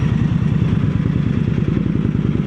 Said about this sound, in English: This is how the engine of a V-twin should be breathing.